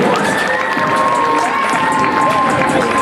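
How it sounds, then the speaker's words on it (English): A school pep rally crowd in a gym cheers loudly for a contestant, a dense sustained roar of children's shouts and cheering with a whistle-like tone running through it, close and unbroken. "Clap it up for Brownie"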